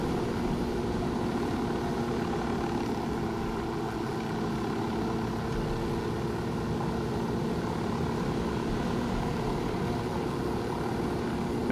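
Helicopter in the Ghost Recon Wildlands video game, a steady, loud engine and rotor drone holding constant throughout with no talk over it.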